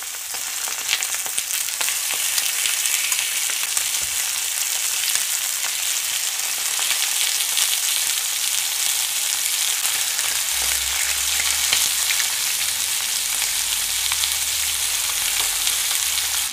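Meat skin-side down frying in oil in a pan, rendering its fat, as for an Albanian-style meat dish: a steady, loud, broadband sizzle with crackle running unbroken throughout, and no voices.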